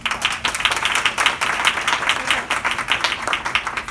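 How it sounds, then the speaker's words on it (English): A seated audience at a Long Island coastal resiliency forum gives Larry a round of applause: dense, steady clapping from many hands, fairly close and continuous for several seconds with no talking over it. "Let's give Larry a round of applause."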